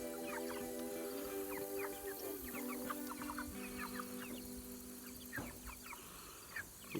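A flock of Jumbo Cornish Cross meat chickens clucks and chirps continuously at close range, with overlapping short calls over a steady low background hum.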